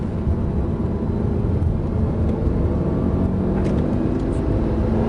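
A 520 hp Lamborghini Gallardo accelerates on the Marcoussis race track in France, its engine a loud, continuous, close roaring drone that holds steady throughout.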